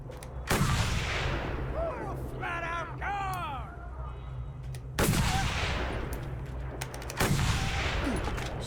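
Heavy weapon fire in the Mad Max video game, loud booming shots at the start, around five seconds and near seven seconds, with whistling projectile sweeps between them over a constant low rumble.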